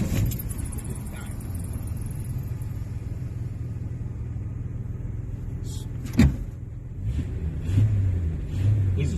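A 1965 Plymouth Valiant with a slant six engine, needing a tune-up and clunking in the right rear, drives along with a steady low rumble, a sharp knock partway through and slight revving near the end.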